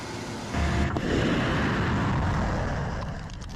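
Cluster warhead from an SS-26 Stone missile detonating above a HIMARS launcher and setting off its ammunition: a loud broadband blast erupts after a brief lead-in, then a sustained rumbling roar of secondary explosions that slowly fades.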